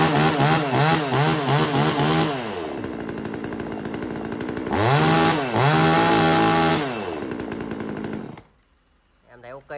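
A small one-handed chainsaw with a two-stroke engine is test-started and revved, rising to a loud buzzing whine in two bursts with idling between, then cutting off, with someone talking over it.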